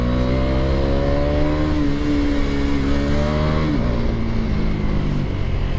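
A motorcycle with a 390 handlebar revs and accelerates hard on a road while racing a Scorpio. Its loud, close engine note climbs in pitch, dips with a gear change, and climbs again, with strong wind rush.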